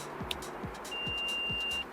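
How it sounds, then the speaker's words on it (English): A continuity tester gives a steady high electronic beep tone for about a second, with faint low clicks and background hum around it. "It beeps."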